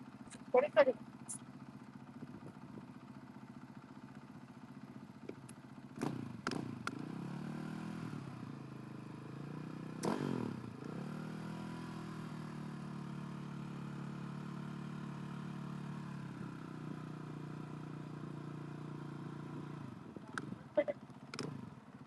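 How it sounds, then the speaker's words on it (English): A KTM 450 rally motorcycle idles at the start of a desert rally prologue, a steady low engine rumble with brief rises in revs and a few sharp clicks, while a voice talks over it. "Going to be riding a KTM 450."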